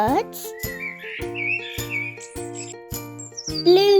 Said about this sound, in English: blackbirds,